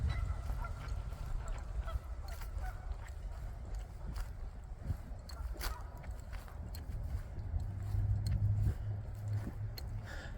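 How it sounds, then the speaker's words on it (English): Geese honk repeatedly at a state park lake, giving short, scattered calls at a moderate distance over a low background rumble. "There's geese."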